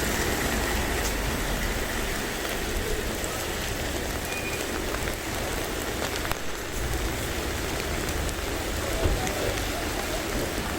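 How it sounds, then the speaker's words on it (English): Steady rain falling outdoors, a constant dense hiss of drops on surfaces that runs unbroken throughout with no clear talk. "It's definitely raining."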